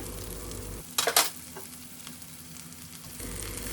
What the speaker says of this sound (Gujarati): હવે આપણે તેમાં આ બાફેલા મઠ છે તે મિક્સ કરી દેવાના છીએ